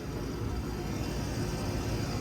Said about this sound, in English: I think it's a Johnson Controls unit that's running.